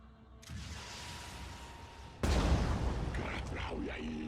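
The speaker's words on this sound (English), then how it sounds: "we said we were going to grenade in, so let's do that" A grenade goes off in the tactical video game Phoenix Point, a loud sudden boom at the midpoint that lifts the steady background rumble of game sound effects and then keeps it louder until the end.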